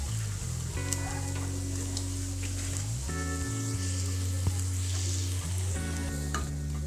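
Okra frying in a pan with onion, green chilli, curry leaves and tempered mustard seeds, a steady loud sizzle throughout with stirring scrapes and sustained tonal hum, no talk.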